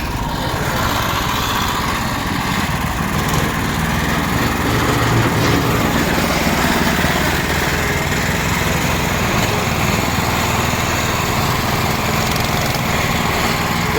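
A 22 hp ToyTraktor small tractor works on a building site, picking up gravel and grading soil, its light engine running loud and steady with a constant buzzing drone and no talking.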